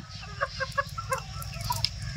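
Farm fowl call out nearby, with a short series of honking, clucking notes from Chinese ducks and tiger chickens on a duck farm, over low background rumble.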